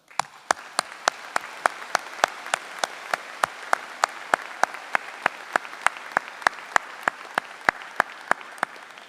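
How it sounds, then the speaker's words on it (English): A commencement audience applauds graduates. Crisp, evenly spaced claps ring out steadily, about three a second, over a continuous soft hiss of wider applause across a large hall. "Let's recognize their wonderful work with a round of applause."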